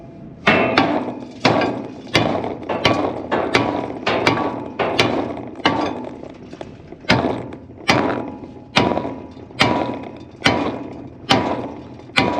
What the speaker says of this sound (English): I'm back with a hammer. And I guess I'm not really concerned about damaging it, so I can hit it